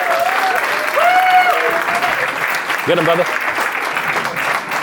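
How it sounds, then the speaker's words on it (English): A comedy club audience applauds steadily and loudly as comedian Jim Wallis comes on stage at the Comic Strip, while a voice calls out briefly over the clapping. "Clap it up."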